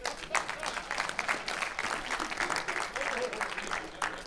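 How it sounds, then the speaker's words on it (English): A conference audience applauds at a comedy set, producing a sustained, dense patter of clapping from a crowd that carries evenly through the whole stretch, with some voices mixed in. "By applause, how many guys here today are old?"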